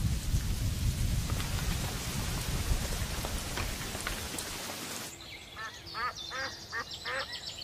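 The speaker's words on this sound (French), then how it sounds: "Un vent violent annonce de fortes pluies." Heavy rain roars with low rumbling thunder for several seconds, then cuts to calmer ambience with chirping bird calls.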